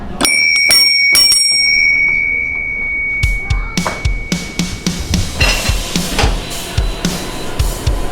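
Three bells ring in quick succession, bright and close, then fade into a series of clattering knocks and taps.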